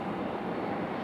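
A Frontier Airbus A321neo airliner at Raleigh-Durham airport, a steady broadband engine roar from a nearby airliner with no clear change, heard alone.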